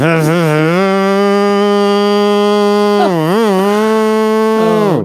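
A voice imitates a leaf blower running outside, holding a loud, steady droning hum with a few wavering pitch bends, close and alone.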